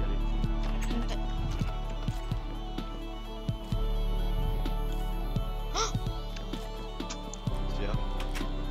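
Horse hooves clip-clopping in Minecraft, a run of quick irregular hoof clops under a steady background hum, with a few brief higher game sounds and no talking.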